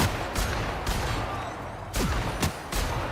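Gunfire in The Outer Worlds: several sharp, loud shots fire in uneven bursts, a couple close together, with a light background hum between them.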